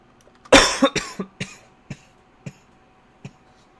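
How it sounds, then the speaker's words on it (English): A single person coughing hard at close range, one loud fit followed by a string of smaller, spaced coughs that fade into quiet, with no talk. "excuse my coughing, guys"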